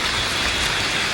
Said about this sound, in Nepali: पानी परिरहेको